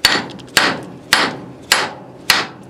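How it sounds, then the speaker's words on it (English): A hammer taps a bearing out of a demolition saw held in a vise. Five loud, sharp metallic strikes land close by at an even, steady pace, each ringing out briefly. "So just a few more tappity taps."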